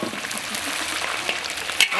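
Pork trotters sizzle and hiss in a hot wok as they are stir-fried with ginger, a steady close frying noise with a sharp scrape of the spatula near the end.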